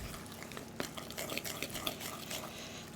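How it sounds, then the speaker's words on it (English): Cooled melted butter being stirred into a gluten-free lime and coconut friand batter, with soft, steady scraping and mixing in a bowl and an occasional light utensil clink, close and fairly quiet. "so I have here 185 grams of melted butter. That's cooled slightly because I don't want my egg whites to cook. And I'll just mix that through."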